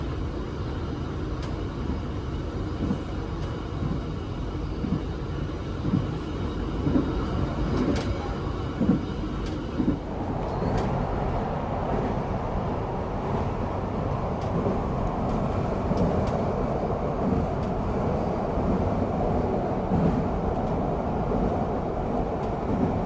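Pasundan economy-class passenger train rolling along the rails, a steady loud rumble with faint clicks, growing rougher and denser about halfway through, heard from on board with no talk.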